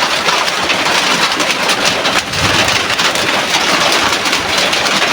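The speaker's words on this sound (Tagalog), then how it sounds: "Ang lakas talaga ng ulan." Heavy rain pouring steadily and loudly, a dense unbroken roar with a brief dip partway through, no voices.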